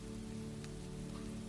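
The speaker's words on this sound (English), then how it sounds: "only the sound of rain on a balcony" Steady, even rain falls on a balcony, a continuous soft hiss of drops with a low constant hum beneath, close and unbroken throughout.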